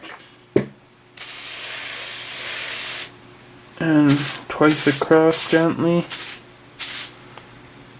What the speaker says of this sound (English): Evenly, just a light spray.